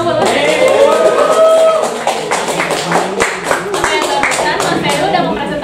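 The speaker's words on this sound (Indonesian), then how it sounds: "Tepuk tangan dulu dong" A small audience at an app store optimization sharing session claps steadily and fairly close for several seconds, with some talk mixed in over the applause.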